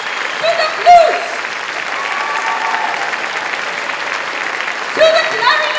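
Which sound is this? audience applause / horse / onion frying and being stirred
audience applause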